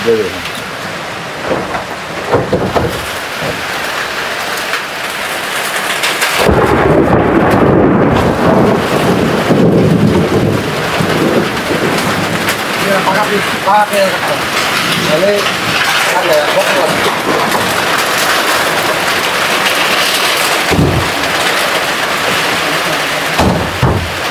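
Sudden rain sweeps over a guava orchard, swelling from scattered patter into a loud, steady downpour with distant thunder, while people talk intermittently over it.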